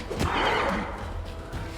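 A horse neighs in Pathfinder: Wrath of the Righteous, a single loud, fairly close whinny that rises and then trails off over a low rumbling game background.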